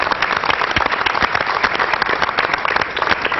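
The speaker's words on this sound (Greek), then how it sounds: "σηκώνει ένα θερμό χειροκρότημα." Warm applause fills a hall at a 40th anniversary celebration of the Pancyprian Association of America, steady and sustained from a large audience throughout.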